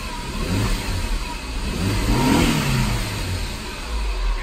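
A 2006 Saab 9-5 Turbo engine revs up to a peak and settles back down, loud and close with a steady broadband roar and no voices.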